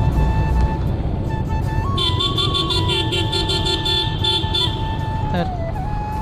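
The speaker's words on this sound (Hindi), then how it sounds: "टनल के अंदर तना भाई अलग ही साउंड आता है भाई, मज़ा आ गया यार, क्या एग्जॉस्ट का साउंड आ रहा है मस्त" Vehicle exhaust roaring inside a road tunnel during a Sunday ride alongside a Ducati and a Porsche, a loud, sustained drone with steady engine tones and horn-like toots echoing off the walls.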